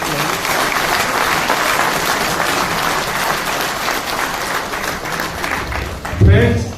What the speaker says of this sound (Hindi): मीटिंग की शुरुआत जोरदार तालियों से।